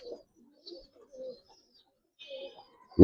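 A coloured Giribaz pigeon gives soft, low coos in a few brief separate bursts, close but faint, before a sudden loud noise at the end.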